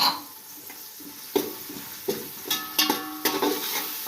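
Peas and freshly ground spices sizzling in a pot as a matar pulao is sautéed: a soft, steady frying hiss broken by sharp scrapes and clatters of a spoon stirring against the pot, nearby, with no talking.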